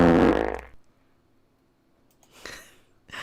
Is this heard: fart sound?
yes